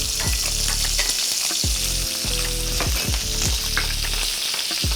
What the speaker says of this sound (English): I'm gonna go ahead and add butter to my pan.